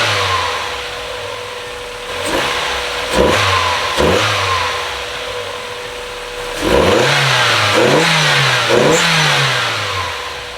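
Modified Mazda MX5 drift car engine starting and revving in a few sharp throttle blips, then a sustained rising and falling rev run, loud and close with no talking.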